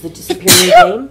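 A single sharp, loud human sneeze bursts out in the middle of the clip, with a voice speaking briefly just around it.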